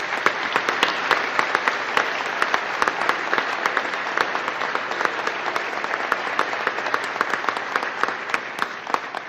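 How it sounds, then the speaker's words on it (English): A large crowd at a ribbon-cutting event applauds volunteers from task forces and committees, producing loud, sustained, dense clapping with many sharp individual claps close by, steady for the whole stretch with no talking. "give them one more round of applause."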